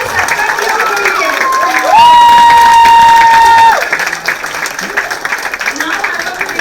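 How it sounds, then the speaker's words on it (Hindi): Audience at a children's stage play cheering and clapping, with a long sustained whistle or tone sounding over the crowd noise midway, then the applause continuing at a steady level. "जोरदार तालियां अथर की सत्कर्मियों के लिए"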